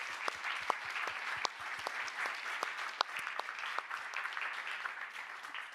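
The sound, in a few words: audience applause for guests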